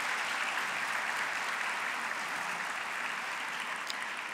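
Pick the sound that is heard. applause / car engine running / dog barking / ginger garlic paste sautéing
applause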